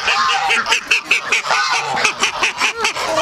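Ducks on a small farm quack loudly and continuously, several birds calling over one another in a dense, close, repetitive chorus with no talking.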